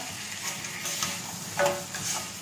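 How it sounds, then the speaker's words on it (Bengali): A catla fish head frying in hot oil, with a steady sizzle and occasional stirring scrapes. No one speaks. "কাতলা মাছের মাথা ভাজতে কিন্তু ভালো করে ভাজতে হবে মুড়ি ঘন্ট করার জন্য"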